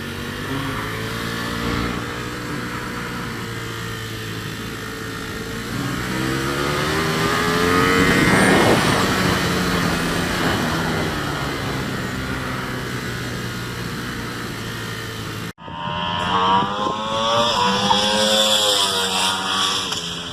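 Ducati Panigale superbikes, a V4 S Speciale and a 1299 S Anniversario, lapping a race track: a loud, sustained engine howl rising and falling through gear changes, then a sharp cut and a fresh high-revving pull close by.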